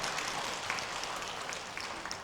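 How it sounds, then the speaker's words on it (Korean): Applause from a church congregation during a Sunday worship service, a soft, steady wash of many hands clapping at low level for a couple of seconds, with no voices over it. "이게 박수가 무슨 의미인지를 내가 이해를 못 하겠습니다."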